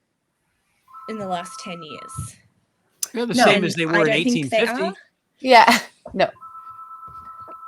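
A phone rings with an electronic notification tone, a steady beeping note heard twice: once under a man's speech early on and again alone near the end. Conversation fills the gap between the two rings.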